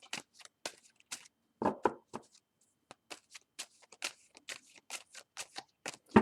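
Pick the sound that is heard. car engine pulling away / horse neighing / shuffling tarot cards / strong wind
shuffling tarot cards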